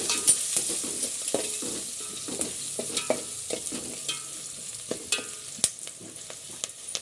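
Drumstick gravy with salt and turmeric is stirred in a hot pan, giving irregular scrapes and knocks of a spoon over a soft sizzle, close and moderately quiet, with no talking.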